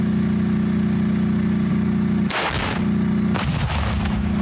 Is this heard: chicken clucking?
no